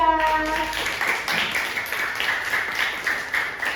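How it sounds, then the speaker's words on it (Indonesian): A classroom applauds group 2 with a burst of many hands clapping, busy and moderately loud, starting just after a brief voice at the beginning. "Tepuk tangan dulu untuk kelompok 2."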